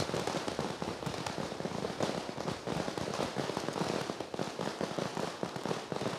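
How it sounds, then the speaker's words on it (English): Dense, continuous crackling and popping of Chinese fireworks and firecrackers at a gala, loud and rapid-fire, filling the air without pause. "The fireworks are here to greet us"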